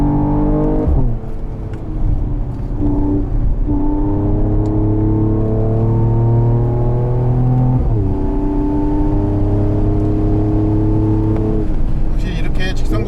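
A 2022 Mercedes-AMG GT43 4Matic Plus in Sport Plus mode pulling hard on a winding mountain road, its engine note climbing steadily, dropping at upshifts and rising again, heard loud from inside the cabin.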